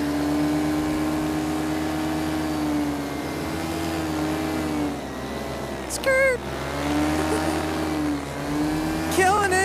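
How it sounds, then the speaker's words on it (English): A smooth, quiet racing motorcycle engine holds a steady, even drone at speed, with wind rush over it, a brief rising whine near the middle and another at the end. "this motor is so quiet and so smooth. I literally don't feel like any vibration at any throttle range"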